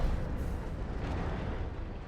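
Distant heavy booms of long-range artillery fire in the video game Dawn of War II: Retribution blend into a continuous low rumble, steady and dense throughout, with no voices.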